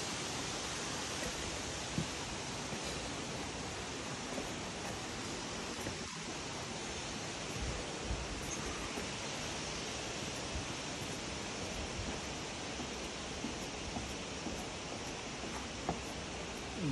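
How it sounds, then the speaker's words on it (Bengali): Wentworth Falls waterfall gives a constant, even roar of falling water at a low level, unbroken for the whole stretch with no voices. "আর এখান থেকে আপনি ঝর্ণা দেখতে পাচ্ছেন"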